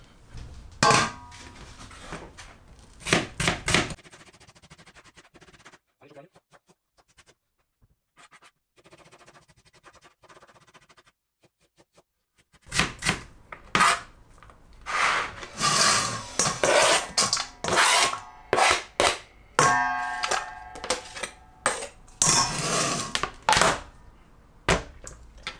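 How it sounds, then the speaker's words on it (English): Knife chopping onion on a cutting board for an omelette, several bursts of rapid crisp chops separated by a quiet pause, close and fairly loud. "Let's chop the onion."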